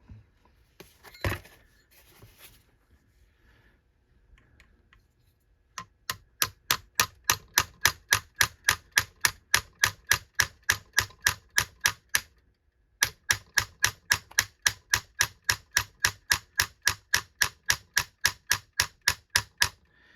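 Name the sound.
hammering a front sight into a 1911 pistol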